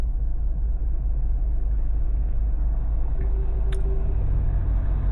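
Steady car interior rumble from a drive on a sunny winter road between Bridgetown and Annapolis Royal, Nova Scotia, a constant low engine and tire drone with a brief faint tick near the end and no talk.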